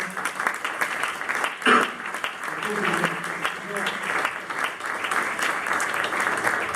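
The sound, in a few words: applause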